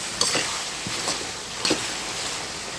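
Bottle gourd curry being stirred in a pan, soft scraping strokes at intervals over a steady low sizzle and hiss, close and fairly quiet, with no talk.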